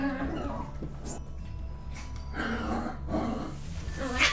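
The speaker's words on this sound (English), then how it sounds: "My puppies are playing." Puppies play nearby with soft whimpers, snorts, yips and huffing breaths in short scattered bursts, with a quiet voice briefly in the background.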